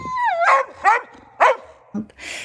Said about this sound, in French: Dans son excitation, il va aboyer.